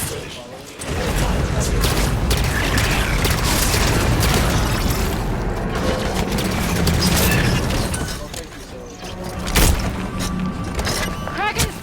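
Bursts of Promethean bolt-shot fire from Halo 5 come in rapid succession amid a dense, booming wash of game combat, loud and near, with voices talking over it.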